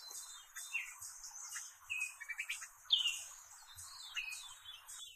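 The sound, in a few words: male orioles calling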